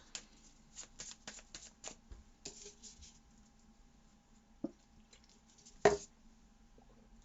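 Playing cards are riffled and shuffled in quick papery bursts, followed by softer handling sounds and a sharper snap near the end, close by.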